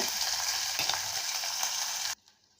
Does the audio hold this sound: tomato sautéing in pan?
yes